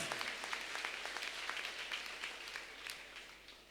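A church congregation at an Easter Sunday service applauds in a steady, dense wash of clapping that stays even throughout and fades slightly at the end.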